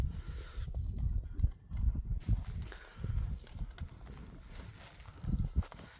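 A horse's hooves thud in an irregular clip-clop rhythm on the ground, moderately close and fairly soft, with low background noise and no clear talk.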